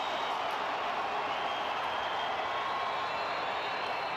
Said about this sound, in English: you can hear this crowd just getting into this one